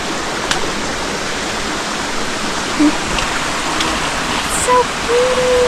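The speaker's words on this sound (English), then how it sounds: "Oh, there's the waterfall." A waterfall along the icy Fork Ridge Meadow hiking trail rushes as a steady, full wash of noise, with a few faint brief tones over it.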